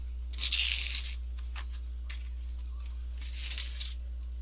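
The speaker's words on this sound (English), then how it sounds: "I want to get this piece of tape off of here." Two sharp ripping bursts of tape being peeled off a painted banner, each about half a second long, with a fainter tug between them, close and crisp over a steady low electrical hum.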